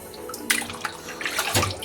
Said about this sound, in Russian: ополоснули мы так быстренько